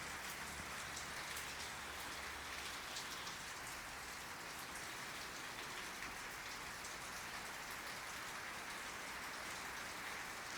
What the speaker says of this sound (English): Thank you, Rain, for calming down for this opening.